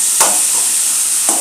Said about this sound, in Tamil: இப்போ தக்காளி போட்டுக்கலாம். நல்லா கிண்டணும்.